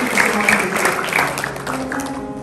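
An audience claps steadily at a Ramadan charity gathering at the As-Syafi'iyah orphan boarding school in Jatiwaringin, with voices talking over the applause throughout.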